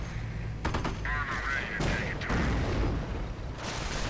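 Gunfire and mortar rounds crash through a Company of Heroes match between US and Wehrmacht forces, a dense run of shots and booms with a narrator's voice talking over the battle.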